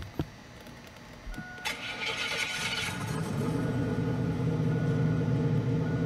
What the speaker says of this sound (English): Sounds aggressive, even more like American muscle car